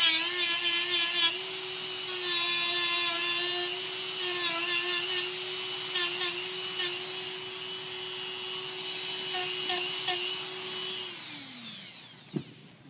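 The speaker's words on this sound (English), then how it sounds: "what we're going to do is sand a little bit of material off the top here" A power sander whines steadily and close while grinding material off metal to prep for a nitrogen plastic-welding bead in a vo-tech shop, holding a constant pitch with small bumps of contact, then spinning down and stopping at the end.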